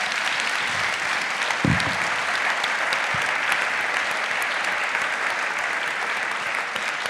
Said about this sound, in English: let's give Piet a big round of applause.